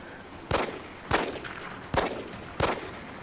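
Four sharp gunshots from the video game XCOM: Enemy Within ring out at irregular intervals, each a sudden crack with a short decaying tail, over a quiet background.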